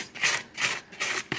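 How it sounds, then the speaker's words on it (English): A hand mixes Fels Naptha soap with clumped Arm & Hammer washing soda in a container, making rhythmic scratchy rubbing strokes about every 0.4 seconds, close and moderately loud, with no talk. "I'm just really getting down in there to mix up that Fels Naptha and break up these"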